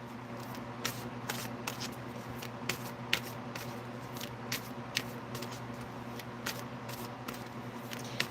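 Tarot cards being shuffled and drawn: a steady soft papery rustle with repeated light card snaps at irregular intervals, close by and fairly quiet, with no talking.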